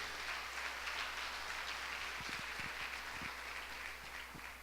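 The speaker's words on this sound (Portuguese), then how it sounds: "quem pode dar uma salva de palmas para o Senhor?" Church congregation applauding in praise, a steady wash of many hands clapping at moderate distance, fairly quiet and unbroken for a few seconds with no talk over it.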